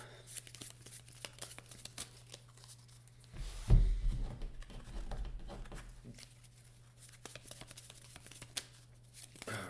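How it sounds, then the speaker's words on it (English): Hero and villain decks of Marvel Legendary cards are shuffled by hand, a steady papery riffle and patter of cards close by, with a louder burst of handling midway before settling back into quieter shuffling. "Shuffle the hero deck and the villain deck"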